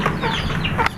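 Native chickens cluck steadily while pecking at vegetables, a close, busy patter of short calls filling the whole brief moment.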